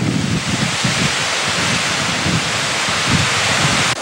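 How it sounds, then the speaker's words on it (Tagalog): Strong typhoon wind roars steadily with heavy rain hissing throughout, low gusts buffeting the microphone in pulses, during Typhoon Nina in the Philippines. "Ramdam na namin ngayon sa mga oras na ito yung pinakabugso ng hangin at ng ulan"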